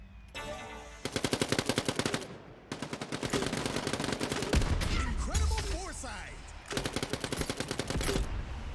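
Rapid bursts of gunfire and explosions from a video game, loud and dense, with a brief voice speaking over the barrage.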